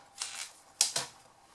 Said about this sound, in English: Trim those bits off